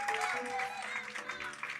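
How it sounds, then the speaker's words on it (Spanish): A standing church congregation gives a brief round of applause at the close of a Sunday morning service, soft, diffuse clapping under sustained music tones and a murmuring crowd. "Denle un fuerte aplauso al Señor esta mañana."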